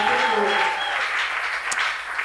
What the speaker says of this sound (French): J'aimerais que tu puisses l'élever par tes acclamations ce matin.